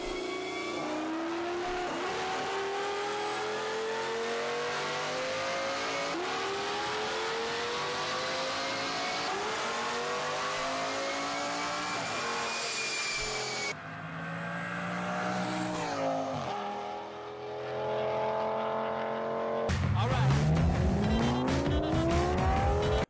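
A high-pitched Audi C6 S6 V10 engine screams through repeated rising revs and gear changes, loud and close, with a brief drop before climbing again.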